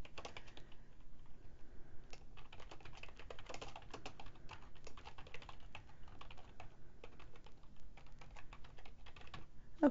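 Quiet, fairly close typing on a computer keyboard, with irregular clusters of light key taps and brief pauses across the whole stretch.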